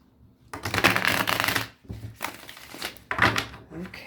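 Tarot cards are shuffled in a few close, riffling bursts separated by short pauses, with no talking.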